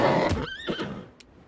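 A horse whinnies loudly and close in a video game, a shrill, quavering neigh that rises and falls, then fades out over a second.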